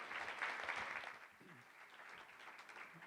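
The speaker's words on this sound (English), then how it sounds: "Can we get a big round of applause for our members and for our panelists?" Members and panelists at a City Club Friday Forum are applauded at the close of the broadcast: a faint, steady wash of many hands clapping from the room, heard at a distance for about three seconds.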